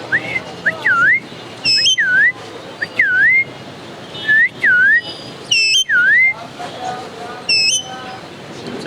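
A parrot whistles in short rising-falling phrases at a bird market, repeated several times with brief pauses, loud and close, with some higher chirps between.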